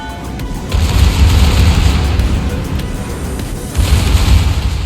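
Secondary guns of a T11 German battleship, Hannover, firing in a naval warfare video game, loud booming blasts rolling together in two heavy bursts with a short lull between.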